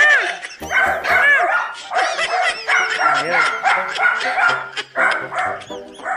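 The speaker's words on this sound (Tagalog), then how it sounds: "Dami din aso. Natahulan yung unggoy eh." Several dogs bark and yip excitedly in overlapping bursts close by, some whimpering high-pitched notes mixed in, with a brief spoken word among the racket.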